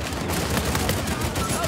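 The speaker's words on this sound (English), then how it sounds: "This weapon's got such a slow rate of fire." Constant gunfire and explosions from an Uncharted 4 multiplayer team deathmatch, loud and dense with no break, with a voice faintly underneath.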